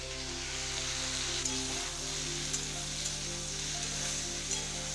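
Vegetables fry in a pan with a steady, close sizzle and a few soft clicks, over a low humming drone; no voices.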